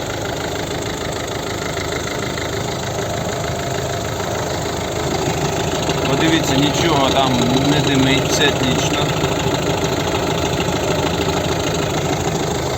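A 2009 Ford C-Max 1.6 diesel engine idles steadily with a low, even rumble while someone talks over it close by.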